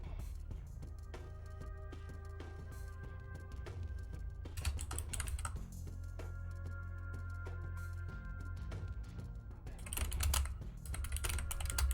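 Computer keyboard typing during an online Mental Omega 3.3.5 strategy game session, a steady patter of close keystrokes running throughout with a few louder bursts of clicks over a low background hum.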